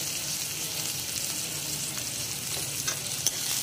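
Spice masala for Bengali-style ghugni of curried yellow peas being stirred and sautéed in a pan, a steady soft sizzle with faint scraping of the spoon and a couple of small clicks near the end.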